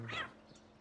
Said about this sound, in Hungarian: Ó, kis cicák! Kis cicái vannak!